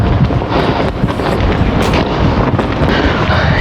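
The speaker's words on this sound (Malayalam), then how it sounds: "ഈ വാച്ച് ടവറിൻ്റെ മുകളിൽ എന്ത് കാറ്റാ, അടിപൊളി" Strong wind on top of a fort watch tower at Awhala Fort in Fujairah, UAE, roaring and buffeting loudly against the microphone in a continuous rumbling gust with no pause.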